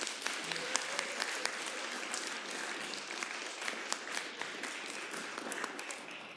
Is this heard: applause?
yes